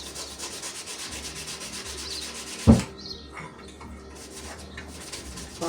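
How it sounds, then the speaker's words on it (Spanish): Sandpaper rubs back and forth over wood in quick, steady strokes, close and fairly quiet, interrupted once by a sharp knock. "después de eso se lija"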